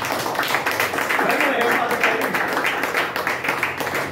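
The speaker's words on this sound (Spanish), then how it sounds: "Démosle un aplauso a él" Audience clapping at a church gathering, a dense, steady patter of many hands that runs throughout at moderate loudness, mixed with voices.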